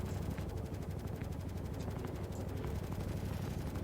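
Bulldog gimbaled size 1 ship guns fire in Star Citizen, a rapid continuous stream of sharp shots rattling steadily like automatic fire for the whole stretch.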